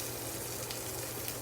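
A salmon fillet searing in a hot pan, browning at the edges with a little smoke, gives a steady, dense, even sizzle that holds without a break and sounds close and moderately loud.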